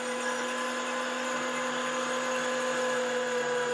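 A meat grinder runs steadily while grinding beef chuck for fresh-ground smash burgers, giving a continuous, even motor whine with tonal hum throughout and no talk.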